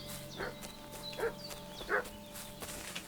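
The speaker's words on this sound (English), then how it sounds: "What's that dog making such a fuss about?" A dog barks in the video game Kingdom Come: Deliverance 2, three short, fairly quiet barks spaced about a second apart over low game ambience.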